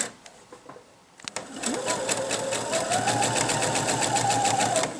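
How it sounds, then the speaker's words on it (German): A domestic sewing machine runs a steady straight-stitch seam on a child's apron, its rapid rhythmic clatter loud and close for several seconds after a few soft handling clicks. "Ich nähe das Ganze füßchenbreit mit einem normalen Schleppstich der Größe 3."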